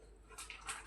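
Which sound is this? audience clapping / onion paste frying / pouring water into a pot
pouring water into a pot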